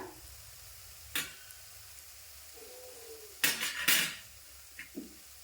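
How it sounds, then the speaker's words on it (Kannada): Jalebi batter frying in oil in a pan over a medium gas flame, a steady quiet sizzle broken by a few sharp clinks and scrapes of a utensil against the pan. "medium ಫ್ಲೇಮ್ನಾಗ fry ಮಾಡ್ಕೋಬೇಕ್ರಿ"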